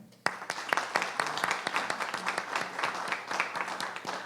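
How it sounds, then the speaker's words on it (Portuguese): Applause from a lecture audience honoring a professor, starting sharply after a brief quiet moment and continuing as a steady wash of clapping with distinct individual claps standing out near the listener. "eu queria primeiro, novamente, aplaudir o professor Stefan"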